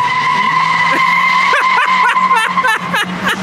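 Tires squeal loudly in a sustained screech over a revving engine, the pitch wavering in rapid bursts as a Honda Civic EK hatchback with 1,400 miles spins its wheels in a burnout.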